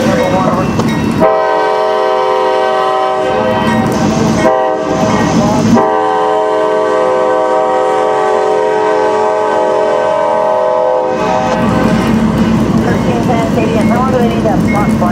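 CSX and Norfolk Southern freight trains pass through Fostoria in the rain. A loud, sustained multi-tone horn blares close by over the rolling rumble of the cars, and a voice speaks over a radio.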